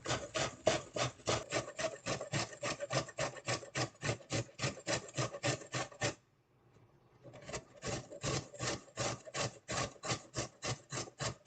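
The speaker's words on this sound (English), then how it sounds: "Okay, go ahead and grate this." Vegetables for coleslaw are rubbed steadily across a grater in fast, even rasping strokes, loud and close, pausing briefly midway before the rhythmic scraping resumes.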